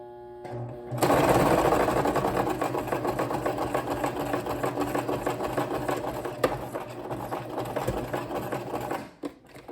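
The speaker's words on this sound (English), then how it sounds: "my sewing machine will sometimes do that" A sewing machine starts up and runs fast for several seconds, a rapid mechanical whirring stitch rhythm, loud and close, before slowing to a stop.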